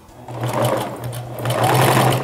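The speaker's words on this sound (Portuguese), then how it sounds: "vou colocar de novo aqui na máquina, arrumo certinho o biquinho da renda para bater certinho e vou passar a costura reta agora no lado" A straight-stitch sewing machine runs through lace, its steady close-up motor hum and rapid rhythmic needle chatter going in two continuous bursts with a brief easing between them.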